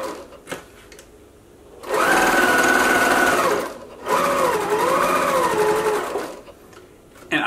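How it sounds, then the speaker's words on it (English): A sewing machine edge-stitching a see-through fabric mask runs in two sustained whirring stretches of roughly two seconds each, close and steady, with quiet handling noises before, between and after. "I'm going to do that same sort of edge stitch we talked about"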